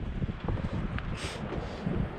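Steady outdoor wind buffeting the microphone at a campsite fire pit, a low continuous rumble with a brief hiss of gusting air midway.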